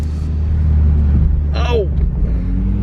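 Toyota Supra sports car idling nearby with a deep, steady engine rumble throughout, a brief tonal whine rising and falling partway, loud and close.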